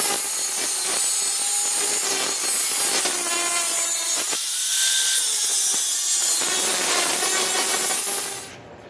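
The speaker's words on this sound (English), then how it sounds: "Got the manifolds cut off." Saw cutting off exhaust manifolds during a 1965 Chevrolet Impala SS turbo LS engine build, a loud, close, continuous rasping grind with rhythmic strokes, stopping abruptly near the end.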